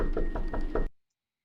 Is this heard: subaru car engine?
no